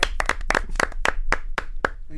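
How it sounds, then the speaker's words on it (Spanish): Applause in a TV studio comes as a run of about nine crisp, fairly evenly spaced claps, close and loud, tapering off toward the end with a hint of voice. "Claro que sí, un aplauso."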